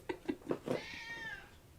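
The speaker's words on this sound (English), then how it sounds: "The cat's visiting." A house cat gives a few short, close meows in quick succession, then a longer rising meow, loud and near, with no talking.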